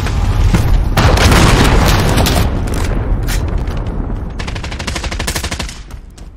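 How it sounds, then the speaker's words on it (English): Heavy explosions boom in Call of Duty: Modern Warfare multiplayer as an allied cruise missile strike lands, a loud, dense barrage of blasts and rumbling gunfire that rolls on continuously before tapering slightly at the end. "Allied cruise missile on the way."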